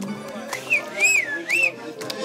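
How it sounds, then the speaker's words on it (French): A person whistles a short rising-and-falling tune, a few bright swooping notes over quiet background at an outdoor gathering with a folk group. "Toi aussi tu siffles comme ça ?"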